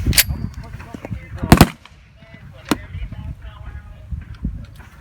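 Springfield Armory M1A rifle shots at a Camp Perry, Ohio shooting match, with a few sharp, loud cracks standing out over steady outdoor range noise and faint background voices.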